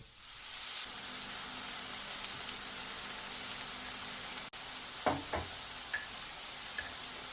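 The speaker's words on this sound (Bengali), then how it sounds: "আমরা পেঁয়াজ কুচি ও মরিচ কুচি দিয়ে পেঁয়াজে লাল কালার হওয়া পর্যন্ত ভাজতে থাকবো" Chopped onion and chili frying in hot oil in a pan, a dense steady sizzle with a louder burst at the start, a short cut midway, then scattered spatters and small knocks over the continuing hiss.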